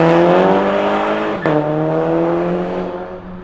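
A car engine revs hard with a strong rising harmonic whine, loud and close, with a brief sharp crack around the middle, then it holds high and slowly fades.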